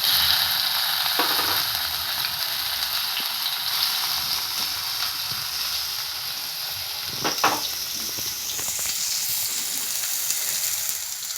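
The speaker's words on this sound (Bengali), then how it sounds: "টমেটোটা নাড়তে থাকবো" Tomatoes fry and are stirred in mustard oil in a wok, giving a steady close sizzle with a few brief scraping stir sounds and no talk.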